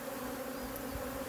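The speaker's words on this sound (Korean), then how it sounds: "이렇게 말벌이 들어오면 잡으면 됩니다" Hornets buzz steadily as they fly into a hornet trap baited with attractant liquid near beehives, a faint, close, continuous whirring hum with no voices.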